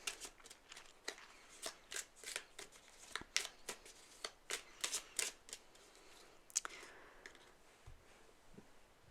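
Tarot cards riffled and shuffled in a quiet room, a rapid irregular run of crisp papery flicks and taps spread over several seconds, close and fairly soft with no talking.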